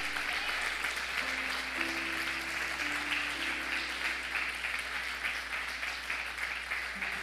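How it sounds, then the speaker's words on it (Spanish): Sustained applause from a church congregation during a sermon, steady dense clapping for the full stretch, fairly loud and close, with a faint low tone underneath and no talk over it. "Dale un fuerte aplauso."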